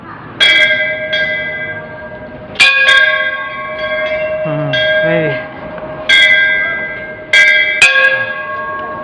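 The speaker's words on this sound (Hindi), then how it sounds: "चल घंटी बता" A metal temple bell at Nathaldai temple, Timarlaga, Chhattisgarh, is struck several times at irregular intervals, each bright clang ringing out and slowly fading, with faint background murmur between strikes.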